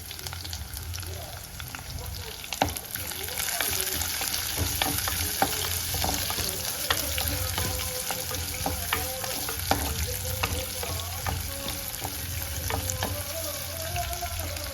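Chopped shallots frying in hot oil with cumin seeds for a lentil curry, giving a loud dense continuous sizzle with scattered pops and occasional spatula scrapes, close and steady throughout, with no talking.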